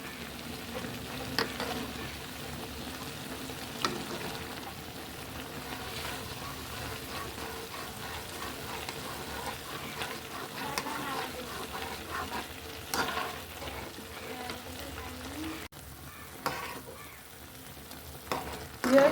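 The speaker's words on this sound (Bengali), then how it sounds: "একটু বেশি বেশি করে আপনারা নাড়বেন।" Taro stolons with a little hilsa fish are stirred as they fry in a pan with coconut milk, giving a low continuous sizzle with soft scrapes and occasional clinks of the spoon, fairly quiet and without talking.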